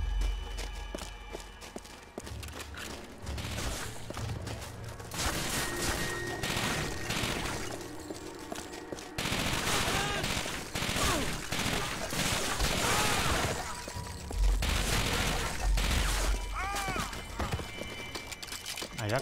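PPSh submachine gun in Call of Duty: Finest Hour on PS2, firing in sustained bursts of rapid crackling shots amid dense battlefield noise and clatter.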